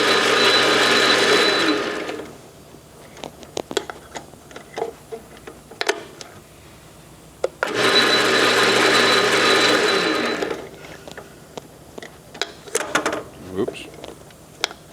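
An Enco 1-1/2 hp single-phase gap bed bench engine lathe runs through its gears in two loud, steady mechanical whirring bursts, separated and followed by quieter ticking and clicking of the gear levers.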